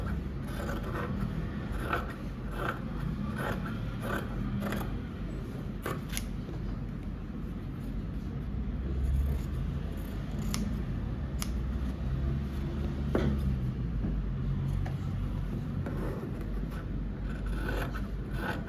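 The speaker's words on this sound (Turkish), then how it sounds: "Telanın dibinden kesiyorum." Scissors cutting through doubled interfacing close to the edge for a tie collar, a continuous soft rasping and rubbing with faint snips scattered through, quiet and close.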